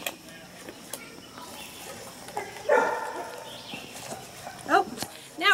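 A dog barks and whimpers in a kitchen while a peach cobbler is mixed for the crock pot, a few sharp yelps rising over a voice and steady household background noise.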